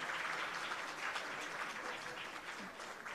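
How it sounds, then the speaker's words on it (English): A seated audience at a corporate governance awards ceremony gives the panelists a sustained round of applause, a dense wash of many hands clapping at once, steady and fairly distant with no voices rising above it. "A round of applause to all the panelists."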